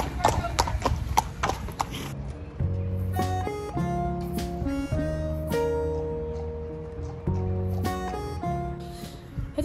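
Hooves of a horse clip-clop steadily on hard ground as it is led out at a stable, close and clear, with a second horse neighing and people talking over the steps.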